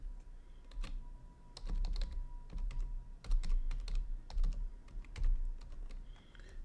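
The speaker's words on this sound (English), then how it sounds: "for the password you just type any random password" A password typed on a computer keyboard while setting up an Azure virtual machine: quick, close, irregular key clicks in short bursts with brief pauses, quiet and alone.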